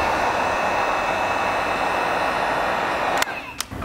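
A heat gun warming chrome delete film on a 2023 Toyota Tundra grill gives a steady loud airy roar that cuts off near the end, followed by a couple of faint clicks.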